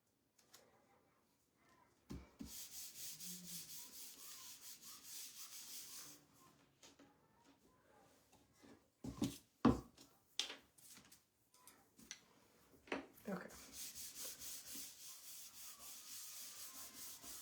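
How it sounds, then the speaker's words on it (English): Hand sanding of a small wooden decor piece: bursts of rough, steady rubbing strokes, fairly close and clear, separated by brief pauses and a few knocks as the piece is handled. "I gotta sand this one real quick"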